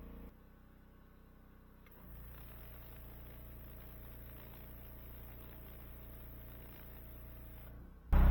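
A pressure washer running at full revs and full flow for roof tile cleaning, a steady mechanical engine drone with a constant hum, quieter at first then stepping up to an even, sustained level before a loud burst at the end.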